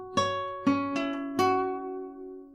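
Acoustic guitar picks the first half of a riff, four ringing plucked notes with sustained overlapping harmonics, played close and alone with no talk.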